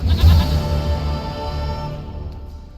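Goat bleating in The Witcher 3 game, a loud wavering bleat up front that trails off into a softer drawn-out call, with no talk over it.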